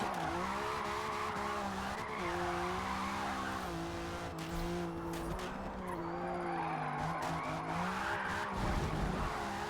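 A drift car in a video game slides with the handbrake pulled, its tires squealing in long wavering howls over a steady engine drone, loud and continuous throughout with no talking.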